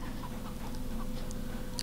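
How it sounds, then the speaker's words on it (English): Chicken clucking in the video game CHKN, several soft short clucks scattered over a steady low ambient drone, faint and somewhat distant. "I can hear the clucking."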